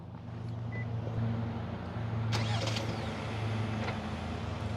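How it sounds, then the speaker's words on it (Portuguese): A car in the United States starts remotely from its key, with no one inside, ready to pull itself out of a parking space. A faint, steady low idle hum runs throughout, with a few light mechanical clicks. "O carro ligou."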